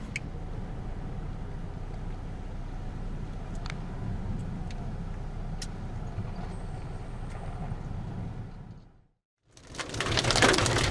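Steady rain pours during a supercell storm chase in Oklahoma, a dense hiss with faint ticks on the vehicle, then a brief drop to near silence before a louder, closer burst of rain.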